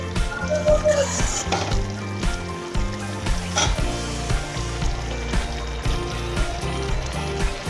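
A mushroom curry gravy boils and bubbles in a pan, producing a close, steady sizzling burble with intermittent stirring clacks and no speech.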